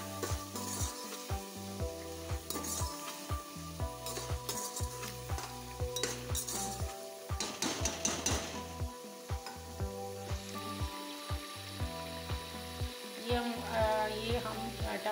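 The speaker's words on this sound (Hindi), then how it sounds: "ये हम टमाटर की भुनाई हम कर लेंगे" Tomatoes roasting in a pan for red lobiya give a continuous close sizzle with stirring scrapes, heard under steady background music.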